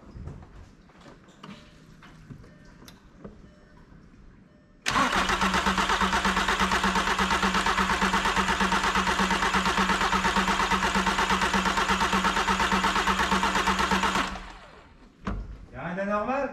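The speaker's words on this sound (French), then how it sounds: "Tiens, là ça va démarrer maintenant. Allez, c'est premier coup de démarreur." A VW Transporter T5 diesel van engine cranks briefly, then catches on the first try and runs loud and steady at a rough diesel idle for about ten seconds before cutting off, with faint talk before and after, following a camshaft and tappet replacement.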